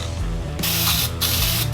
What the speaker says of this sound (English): I'm going to go ahead and glue it, and then I'll show you what I get. Let me just spray it.